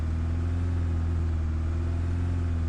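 Steady low engine drone from an automatic car in the video game Endless Suburbia, a constant idling hum with no revving, heard alone at even volume throughout.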